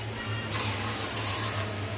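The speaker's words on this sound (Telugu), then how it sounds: "గ్యాస్ స్టవ్ ఆన్ చేసుకొని ఇంక 4 కప్పులు వాటర్ పోసుకోవాలి" Water pours steadily into a pot on a gas stove, a close, continuous splashing gush that fills the moment with no voices.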